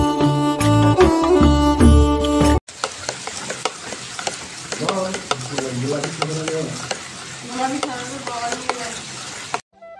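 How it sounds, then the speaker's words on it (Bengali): Fish frying in a pan at a home cooking area during a family ceremony, a loud continuous sizzle with utensil clinks, preceded by a short burst of music and mixed with faint background voices. "এই দেখুন কত মাছ ভাজা হচ্ছে"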